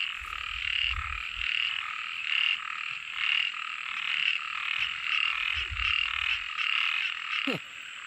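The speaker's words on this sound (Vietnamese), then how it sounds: "Lại một bạn nhái nữa." Field frogs croak in a rice paddy during frog catching. The calls come as a steady, repeating chorus at moderate distance, with a few low thumps and a brief sharp noise near the end.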